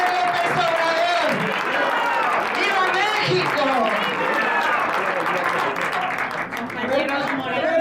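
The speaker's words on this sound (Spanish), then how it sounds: "Démonos un aplauso a todos, caray." Crowd applause and cheering at a Morena political gathering in Jalisco mix with many overlapping voices and shouts, a busy, lively clamor throughout.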